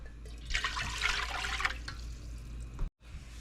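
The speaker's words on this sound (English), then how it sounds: "You're going to add a cup of water" Water poured from a cup into an empty wiped-out pan to start a sweet and sour sauce, a short close splashing rush of about one and a half seconds that tapers off, no talking.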